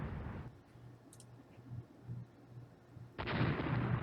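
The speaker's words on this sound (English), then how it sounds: "The enemy light cruiser's been hit with a torpedo." Naval combat in Rule the Waves, where a torpedo strikes an enemy light cruiser. Dull booms and rumbling bursts rise to a heavy, sustained blast near the end, heard alone with no voices.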